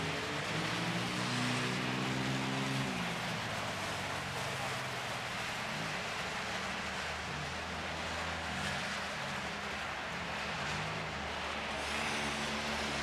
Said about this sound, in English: Time to crank it up in skid car races.